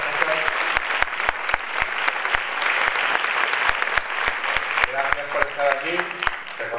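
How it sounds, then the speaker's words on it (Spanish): Audience applause at a film festival closing gala, a steady wash of clapping with a few sharp close claps standing out, with voices and cheers rising toward the end. "para él también un segundo aplauso, que es César Aldana."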